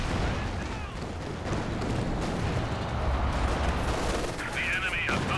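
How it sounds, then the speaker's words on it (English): Rocket barrages in Company of Heroes 2, a 2v2 match, with dense overlapping blasts and rumbling impacts that form a continuous battle din under a commentator's voice. "the rockets firing, and the rockets actually landing into your opponent's"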